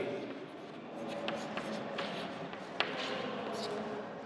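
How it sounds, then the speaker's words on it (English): Chalk or marker writing on a board during a maths lesson on quadrilaterals, with faint scratching strokes and small taps under a low hum. "I will write linear pair."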